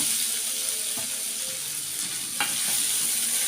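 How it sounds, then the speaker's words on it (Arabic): Soup broth is stirred in a pot over a constant sizzling, bubbling hiss, with a few faint clinks and scrapes of the spoon and no talking. "هقلب يا حبايبي، قلبي كده"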